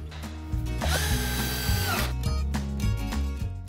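A Craig 720 power drill drives Craig exterior screws into a wooden potting bench, its motor whining in a sustained, pitch-shifting burst with ratcheting mechanical texture, loud and close, with no talking.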